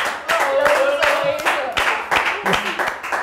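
A television studio audience applauds after a comic impression, brisk scattered hand-claps sounding close under excited, overlapping talk from the hosts.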